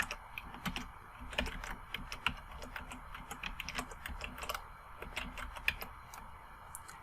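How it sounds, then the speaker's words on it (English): Steady, quick keystrokes clatter on a computer keyboard, close and moderately quiet, with irregular rhythm and no voices. "Another example is when you are typing in an email address or a web address."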